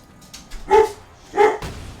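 An excited dog in a video game barks twice, loud and close, with sharp yips about half a second apart and small softer yelps around them.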